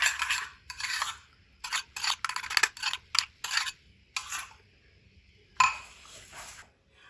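A metal spoon stirs chili into a raw chicken mixture in a bowl, making repeated scraping, clinking strokes in short bursts with brief pauses, close and clear with no talking.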